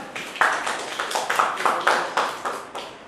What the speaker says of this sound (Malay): beri tepukan kepada Indonesia